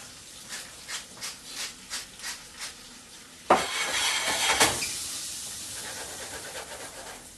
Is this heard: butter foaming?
yes